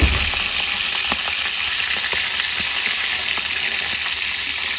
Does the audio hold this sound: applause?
no